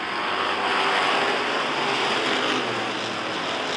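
Pack of race cars roaring together on the green-flag restart of a B.B.N. A Bracket feature at Rockford Speedway, a steady, dense engine wash at moderate distance with no breaks or voices.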